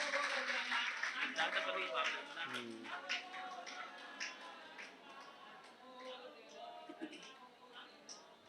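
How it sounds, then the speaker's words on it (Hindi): Scattered audience clapping at a Jain religious gathering during the Paryushan festival, a broad wash of hand claps that slowly thins and fades over several seconds. "हम उनकी तालियां बजाकर खूब अनुमोदना करते हैं।"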